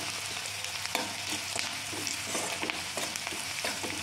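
Onions frying with salt in a pan, a dense continuous close sizzle broken by regular stirring scrapes of a spoon.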